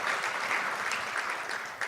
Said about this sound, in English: Well, we'll applaud them anyway.